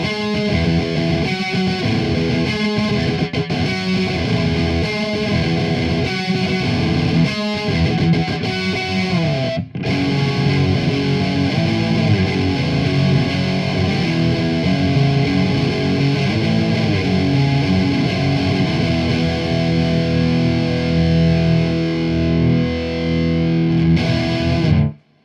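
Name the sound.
electric guitar with distortion through Gish custom pickups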